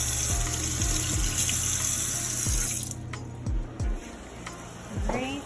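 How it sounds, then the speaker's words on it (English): Tap water runs steadily as something is rinsed under it in a kitchen while making vegan ramen soup, then the flow cuts off into a few splashes and faint clatter, with a voice briefly audible. "I'm gonna rinse this off."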